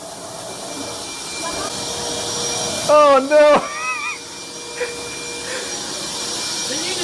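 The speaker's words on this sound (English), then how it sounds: "Grandma, get in there with the vacuum!" A vacuum cleaner runs steadily as a constant broadband drone, used to suck up water during a plumbing flood, with loud shouted voices breaking in briefly over it.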